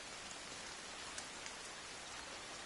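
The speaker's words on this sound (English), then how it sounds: "It's raining." Steady rain pours in the survival video game The Forest, a dense continuous hiss with a few faint drop ticks, fairly quiet and with no voices over it.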